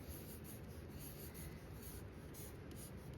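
Pencil writing a name on paper, faint close scratchy strokes that continue steadily without a voice.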